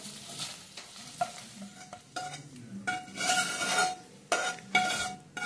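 A spoon stirs hot tempering through mango rice pulihora in a pan, scraping and clinking against the metal in uneven bursts over a soft sizzle, close and moderately loud.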